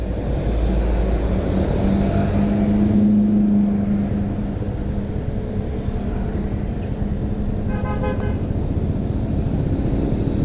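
Steady loud street traffic on a road in Lawang, Malang as a Katana car passes, continuous engine and tyre noise with a short horn toot partway through.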